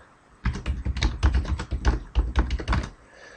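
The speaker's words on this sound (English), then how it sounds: "I just type the different options that I want to appear" Rapid keystrokes on a computer keyboard while entering spreadsheet options, a close burst of irregular clicking taps lasting about two and a half seconds after a quiet start.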